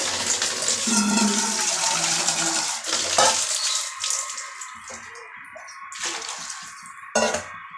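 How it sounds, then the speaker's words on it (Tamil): Water pours and splashes into a pot up close, a steady gush that thins out, followed by a few scattered drips and clinks. "இன்னும் கொஞ்சம் தண்ணி சேர்த்துக்கலாம் இதுக்கு"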